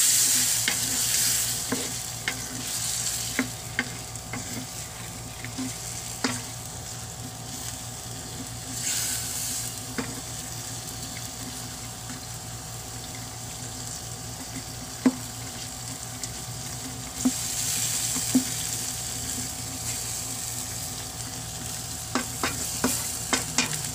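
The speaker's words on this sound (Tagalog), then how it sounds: "Babaliktarin lang natin siya hanggang sa maluto lahat nung bawat part ng ating hipon." Shrimp in garlic butter frying in a pan, with a steady sizzle and hiss under repeated scraping and clinking as the pieces are stirred and turned, fairly close and moderately loud.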